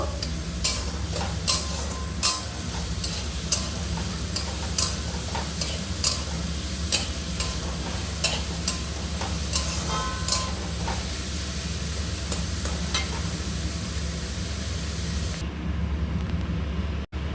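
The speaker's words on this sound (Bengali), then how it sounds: "এটা আমি লাল লাল করে ভেজে নেব।" Something fries in a pan until reddish, a continuous close sizzle with sharp clinks of a spoon stirring against the pan at irregular intervals.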